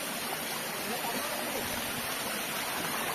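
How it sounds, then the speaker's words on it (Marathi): Small waterfalls near the Kondane Caves in Karjat, heard as a steady broadband rush of falling water, loud and continuous throughout without a break. "इथे प्रत्येक ठिकाणी हे असे छोटे छोटे धबधबे बघायला मिळतात."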